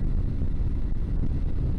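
Steady, heavy wind buffeting a microphone while riding a motorbike at speed, a loud low-frequency roar with constant rumble and no voices.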